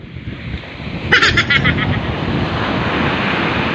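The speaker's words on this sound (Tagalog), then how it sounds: "Ang lakas ng alon, gago. Gago, lakas ng alon." Strong, high ocean waves crash close by in a steady, loud roar of surf, with wind buffeting the microphone and a brief rushing surge near the start.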